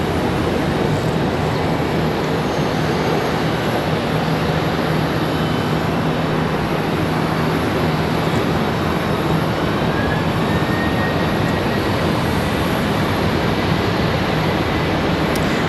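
An American Airlines Boeing 737 from West Palm Beach lands at Charlotte Douglas airport, a steady broadband jet roar at moderate distance that holds evenly throughout with no voices.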